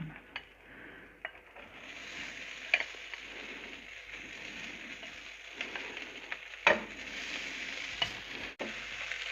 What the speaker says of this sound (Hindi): चावलों को भी हम मिक्स कर लेते हैं इन सारी चीज़ों के अंदर अच्छे तरीके से।